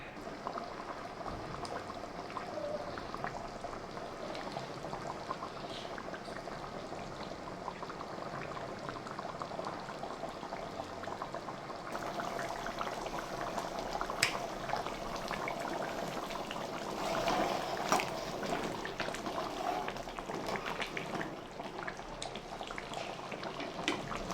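A pot of dhaba-style chicken curry simmering over medium gas, giving a long, quiet, steady bubbling with soft popping and occasional faint clinks throughout.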